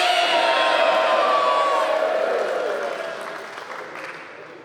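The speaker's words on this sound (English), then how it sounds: "Let's hear a cheer." At an awards assembly, a crowd of children cheers, whoops and applauds loudly, and the noise gradually fades away over several seconds.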